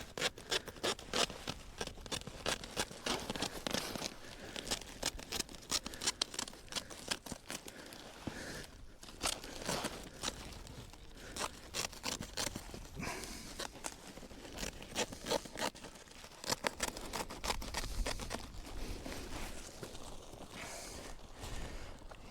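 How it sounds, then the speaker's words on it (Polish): Scissors trimming material while building a vegetable garden, a long run of quick, sharp snipping and crinkling sounds close up, irregular and continuous throughout. "Ładnie to przytniemy nożyczkami."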